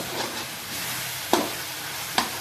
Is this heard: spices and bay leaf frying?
yes